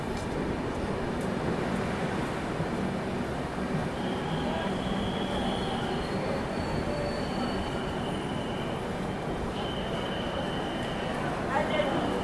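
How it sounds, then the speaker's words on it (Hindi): Tamilnadu Superfast Express passing the Malwa Superfast Express at Mathura Junction, a steady loud rumble of rolling wheels with faint metallic squeals, heard from inside the train. "अपनी ट्रेन अभी यहाँ पर ओवरटेक फाइनली कर रही है"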